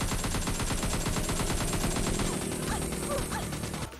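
Dense, rapid automatic gunfire in a battle royale shooter game, with overlapping bursts and shots cracking continuously and loudly throughout, a few brief clinks and crashes near the end.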